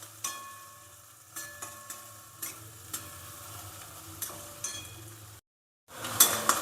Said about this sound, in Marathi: आता आपला कांदा परतून झालाय।